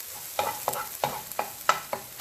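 Garlic dropped into hot oil for a stir-fried minced pork dish, with a run of sharp, close clicks and scrapes of stirring about every third of a second over a soft sizzle.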